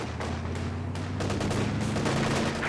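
Dense, continuous gunfire rattles through an urban assault in the Company of Heroes 2 video game, overlapping bursts and shots blending into a loud, unbroken battle roar with no voices.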